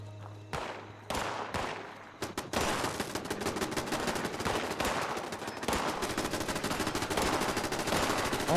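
Turrets in the game Pantheon: Rise of the Fallen fire in a few separate sharp shots, then settle into sustained rapid machine-gun-like bursts that continue steadily at moderate loudness.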